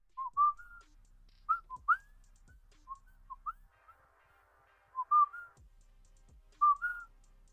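A person whistles short melodic phrases in bursts, with pauses between them and faint hum in the background.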